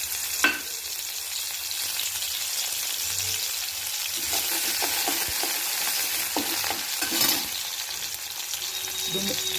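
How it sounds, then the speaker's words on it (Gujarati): Green garlic and green chilli with a pinch of asafoetida sizzle and crackle in hot oil in a pan while being stirred, a steady frying hiss for pasta with occasional clinks of the spoon, close and without talk. "લીલું લસણ અને મરચું નાખીશું"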